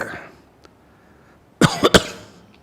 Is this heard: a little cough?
yes